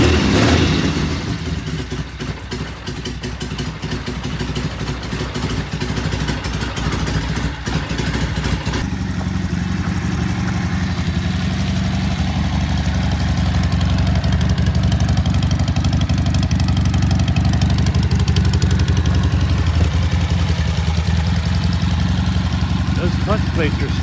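A yellow 1969 Norton motorcycle engine runs loud and close on a test ride, a steady rough rumble that swells and settles into a fuller, even drone partway through, with voices at times.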